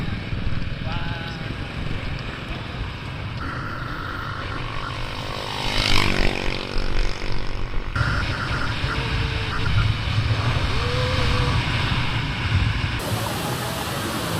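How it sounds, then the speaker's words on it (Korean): Motorcycle ride with a guide in Cebu, Philippines, heading to a waterfall: a steady engine drone mixed with rushing wind noise, swelling louder around the middle, with occasional voices over it. "저 가이드님이랑 오토바이를 타고 갈 겁니다."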